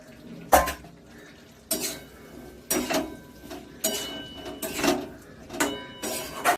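Cauliflower and potato curry with yogurt being stirred in a pan over medium-low heat: repeated loud scrapes and clanks of a spoon against metal, about six strokes in a loose rhythm, close and without talk.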